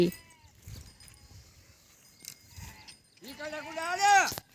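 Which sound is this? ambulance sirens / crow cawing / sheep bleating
sheep bleating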